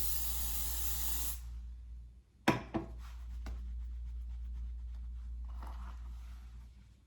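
A single loud, continuous hairspray spray hisses for about a second and a half and stops, followed by a few sharp clicks and quiet room noise.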